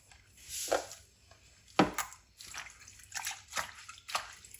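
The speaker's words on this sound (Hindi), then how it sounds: "अब इनको धो लेंगे।" Chopped coriander is washed by hand in a bowl of water, producing close, intermittent sloshes and splashes with light drips in between.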